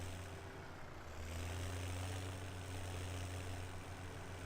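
A tractor engine in Farming Simulator 17 drones at a low, steady hum, quiet and continuous, rising slightly in strength partway through.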